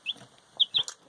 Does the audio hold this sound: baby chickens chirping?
yes